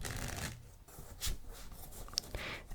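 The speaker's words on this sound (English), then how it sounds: "I'll give the deck a shuffle first" Soft riffling and rubbing of cards, a brief flurry of papery flicks at close range, fairly quiet with no talking.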